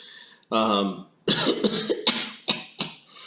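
A person imitates a cough with their voice, giving several short, close, forceful coughing bursts that are spaced unevenly.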